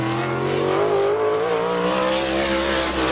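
Car 88's race engine at Midvale Speedway roars continuously during a qualifying lap, its loud sustained tone bending in pitch as it passes, with no speech.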